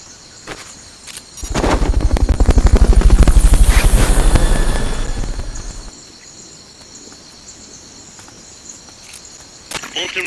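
Fulton recovery helicopter in the video game Metal Gear Solid Peace Walker: a loud rotor whir swells in, holds for several seconds and then fades away, leaving faint ambient game sounds and a few soft clicks.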